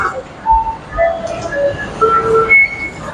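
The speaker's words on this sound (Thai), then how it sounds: "รถไฟมาแล้วนะครับ" A Bangkok skytrain pulling into a station, wheels squealing in thin, shifting high tones over a steady rumbling rail noise, moderately close, with no talk.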